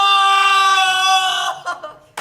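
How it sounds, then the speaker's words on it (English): A single person gives a loud, sustained, high-pitched scream as if running for their life at a live gaming convention panel, holding it for over a second before breaking off into fainter gasps and murmurs. "Give me a good scream. You're running for your life."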